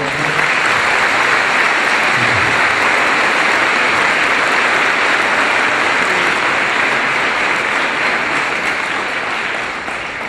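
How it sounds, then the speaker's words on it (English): A crowd at a Veterans Day observance gives elected officials a long round of applause, a loud, even wash of clapping for about ten seconds without speech. "If you can give these people a good round of applause"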